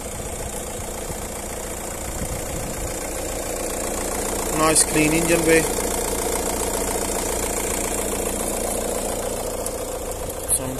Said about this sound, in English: Sounds perfect.